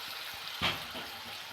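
Onion frying with turmeric and salt in a pan for a singi fish curry, a soft continuous sizzle with a single brief stir or scrape in the middle, heard up close.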